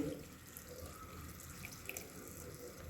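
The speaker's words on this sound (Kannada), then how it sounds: "ಇವಾಗ ಹುಣಸೆಹಣ್ಣಿನ ನೀರನ್ನು ಸೋಸ್ತಾ ಇದ್ದೀನಿ ನೋಡಿ" Tamarind water is strained into a pot already holding jaggery and salt, a faint, soft stream of trickling liquid with light drips, continuous and close in a quiet kitchen.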